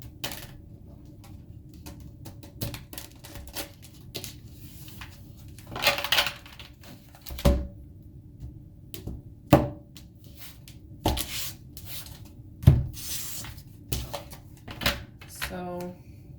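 Repeated riffling bursts of cards being shuffled, separated by quiet pauses, with a few sharp slaps as the deck is squared.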